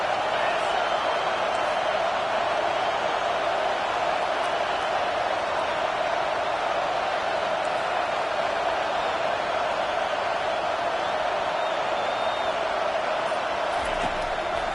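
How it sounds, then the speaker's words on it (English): A stadium crowd roars at a college football game between the Tigers and Bama on third down, a dense, continuous wall of loud noise that holds steady throughout. "Decibels rising as the crowd gets behind this defense on third down."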